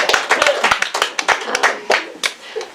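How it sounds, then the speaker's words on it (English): A small poetry reading audience claps for a musician, a few people clapping close by with distinct, uneven hand claps over a short stretch. "I'm clapping for Joe, so thank you so much."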